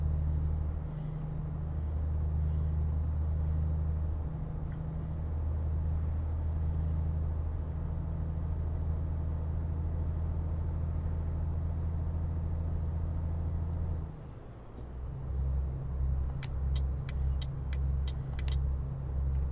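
A Volvo FH truck cruises in Euro Truck Simulator 2, its engine a steady low drone throughout, dipping briefly as it shifts before resuming, with a few sharp clicks and hisses near the end.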